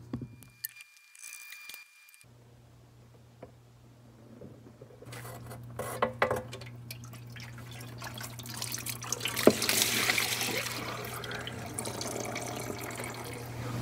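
Transmission fluid drips and trickles from the open transmission of a Mercedes C300 W205 during a fluid change, running as a steady liquid stream with a low hum behind it and scattered drips that grow fuller toward the end.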